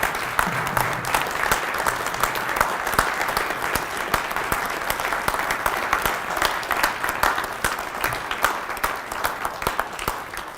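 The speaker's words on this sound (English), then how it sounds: "Let's give it a round of applause." A graduation audience for Session 8 of the Southeastern Leadership Academy applauds, with dense, steady clapping from a crowd sustained evenly for about ten seconds and no talking over it.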